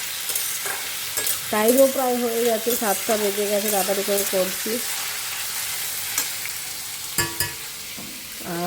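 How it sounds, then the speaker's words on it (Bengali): Potatoes fry and are stirred in a wok with a continuous crackling sizzle. Someone talks briefly over it, and a few clanks from the spoon or pan stand out. "এই যে আলু ভাজা বসিয়ে দিলাম"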